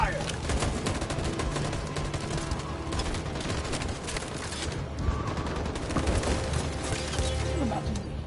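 Sustained rapid gunfire and bursts in the video game Detroit: Become Human, a dense continuous fusillade filling the whole stretch with crashes mixed in, and voices faintly underneath.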